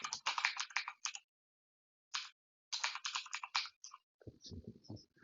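Quick bursts of typing on a computer keyboard while writing in the Highland 2 app, crisp close keystrokes broken by short pauses, with faint low speech toward the end.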